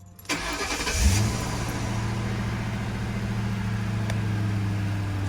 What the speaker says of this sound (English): what I'm gonna do is go ahead and turn on the car